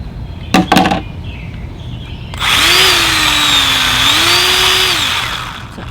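A handheld cordless powered limb trimmer starts when its trigger is pulled and keeps running, a steady close high-pitched motor whine with a slight pitch dip and rise, after a few brief clicks of handling beforehand.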